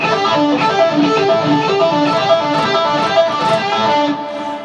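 Distorted electric guitar plays a quick run of picked and raked notes, bright and close, with a smooth flowing phrase and no talking.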